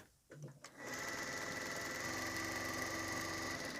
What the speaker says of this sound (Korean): 이렇게 해서 한 바퀴 시접선 줄에서요 박음질 해 놓겠습니다.